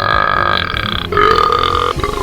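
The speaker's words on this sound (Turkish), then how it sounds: "Geğir, geğirmeye başladı şimdi görüyor musunuz?" Talking Ben, the cartoon dog in the My Talking Ben game, lets out two long, loud, croaking burps back to back, close and prominent with no speech over them.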